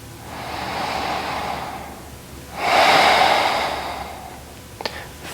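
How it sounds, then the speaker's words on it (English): Deep, slow breathing from someone rocking left and right on their back in a beginner yoga session: a long, airy breath, a pause, then a louder, fuller breath, close and alone. "Rock left and right for about 5 full breaths"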